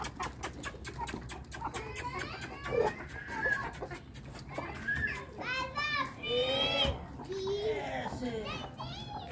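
Small chicks cheep and cluck while being fed, with bird calls scattered throughout under children's voices and someone speaking nearby.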